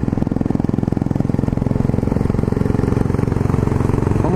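A Yamaha Ténéré 660 motorcycle's single-cylinder engine chugs steadily at a low, even idle, close and loud throughout with no talk over it, on a holiday on/off-road ride.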